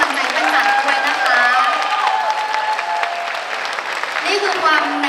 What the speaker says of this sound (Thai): ขอเสียงปรบมืออีกครั้งนึงแล้วกันให้กำลังใจปั้น